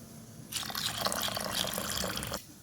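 Water swishing and splashing for about two seconds as dried field beans are rinsed by hand in a bowl, close and fairly soft.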